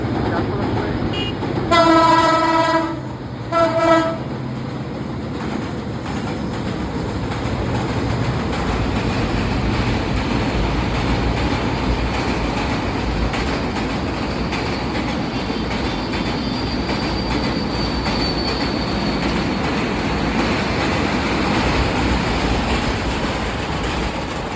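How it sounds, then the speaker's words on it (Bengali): A fast train passes at close range, running at about 80 miles per hour. A short horn blast comes early, followed by a long, loud roar and the rhythmic clatter of rattling wagons. "আসলে ট্রেনগুলো কিন্তু অনেক স্পিডে আসে, প্রায় 80 মাইল আওয়ারে"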